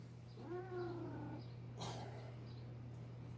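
A domestic cat gives a single drawn-out, wavering meow, close but fairly soft, over a steady low electrical hum, followed by a brief rustle and quiet.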